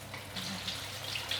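Tap water runs steadily into a sink while tofu for yong tau foo is rinsed, a soft continuous splashing at moderate distance.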